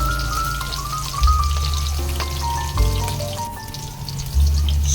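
Chopped onion sautéing in a hot pan for a beef-tripe kare-kare, with a steady close sizzle and crackle running throughout under light background music.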